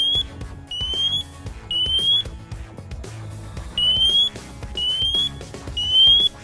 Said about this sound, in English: Once that little smoke hits a smoke detector, all right?